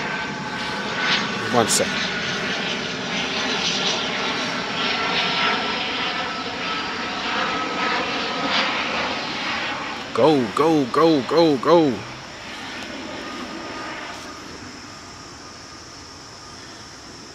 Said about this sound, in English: a plane has come, a plane just happened to be coming by